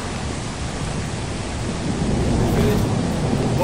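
Thunder from a lightning storm in the video game Lethal Company rumbles as a continuous broadband roar, loud and close, swelling slightly toward the end with no talk over it.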